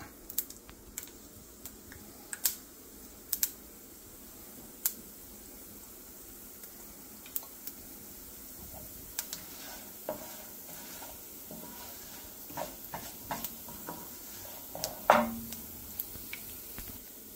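Urad dal and chana dal sizzling in hot oil in a pan for a South Indian potato palya, a soft steady fry with occasional stirring clicks and scrapes, quiet and close, growing busier toward the end.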